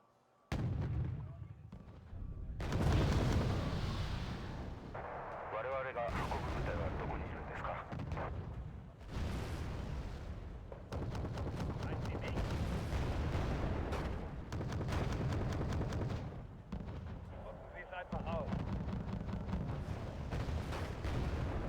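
Heavy artillery booms out in a World War tank battle game, several loud blasts with rumbling tails spread across the stretch, while players talk over comms between shots.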